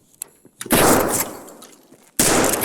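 Gunfire in the video game Escape from Tarkov, on the Lighthouse map: two loud, close bursts of rapid shots, the first lasting about a second and a half, the second starting near the end, with near silence before.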